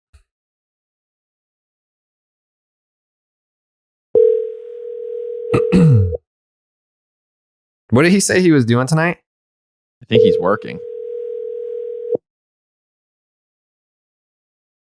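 Ringback tone of an outgoing phone call on a podcast, two long steady electronic rings separated by silence, with people talking briefly between them.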